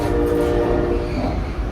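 An Indiana Northeastern diesel locomotive sounds its train horn in one steady, sustained blast that is moderately loud and holds over a low rumble of the train.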